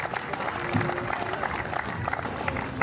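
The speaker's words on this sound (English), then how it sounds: "Big round of applause for both our athletes" Crowd applause for timbersports athletes at an Australian chopping championship, a steady, fairly quiet spread of clapping with some scattered crowd noise, heard from a distance throughout.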